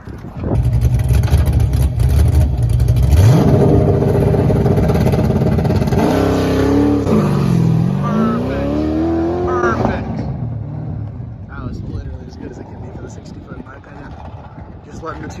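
A loud car engine holds a rough, crackling rev against a two-step rev limiter, then roars as it launches, its pitch climbing before fading away.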